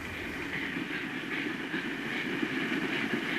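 A train passing in a Satyajit Ray film, a steady rumbling roar of rolling cars with faint rhythmic wheel clatter, sustained and fairly loud throughout, with no talking.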